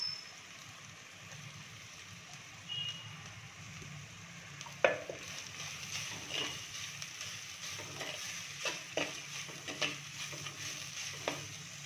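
Onions sautéing with whole garam masala in a pan for a kaleji curry, a soft steady sizzle with occasional stirring clinks and scrapes, fairly quiet and close, no voices.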